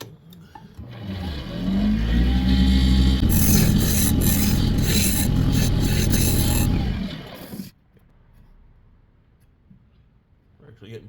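A spiraling tool grinds a decorative pattern into the end grain of a piece of firewood, giving a loud, steady rasping whir. It runs for several seconds, then cuts off into near silence.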